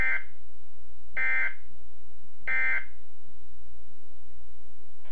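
Canadian Weather Radio alert tone sounding during a monthly receiver test: three loud, even electronic beeps, each about a third of a second long, spaced roughly 1.3 seconds apart over a steady low hum, with no voice.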